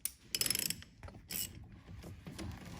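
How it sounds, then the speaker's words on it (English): Ratchet with a 10mm socket working the negative battery terminal on a 2015 Chevrolet Suburban: quick runs of close mechanical clicks in short bursts, fairly quiet with some clatter between. "you're going to need a 10mm socket, and we'll start with the"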